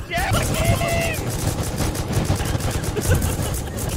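Rapid video-game gunfire aimed at a helicopter, a dense continuous clatter of shots over loud background noise, with excited voices shouting over the shooting.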